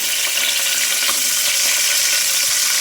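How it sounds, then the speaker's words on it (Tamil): Onions, garlic and tomato sautéing in oil in a pan, a steady dense sizzle and crackle running close and loud throughout, with faint watery stirring. "வெங்காயம், பூண்டு, தக்காளி நல்லா வதக்கிடலாம்."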